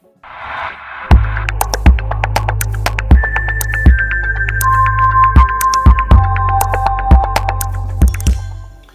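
An Amstrad PCW 8256/512 fitted with a Gotek floppy emulator powers up with a steady low hum, overlaid by a run of sharp, regular clicks and a few sustained electronic tones.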